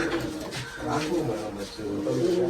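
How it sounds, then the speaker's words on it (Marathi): Caged pigeons coo in low, throaty, repeated calls close by, while someone talks over them. "सर्व पिंजऱ्यामध्ये कबुतर आहेत ना कबुतर बघा कसे आहेत भारी भारी आहेत"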